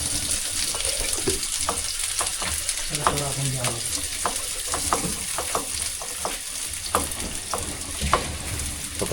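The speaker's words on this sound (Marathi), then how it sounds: "आता कांदा फ्राय होत पर्यंत आपण थोडं थांबूया." Chopped onion frying in oil in a pan for a Marathi-style masala crab dish, a steady loud sizzle with scattered crackles and the scrape of stirring throughout, no talking over it.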